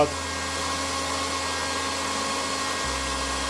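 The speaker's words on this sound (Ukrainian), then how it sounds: "Повітря у нас гаряче, як бачите, фен споживає 1369 Вт" A hair dryer blowing hot air at 1369 watts runs with a steady, close whirring blow and a constant high hum, shifting slightly in pitch near the end.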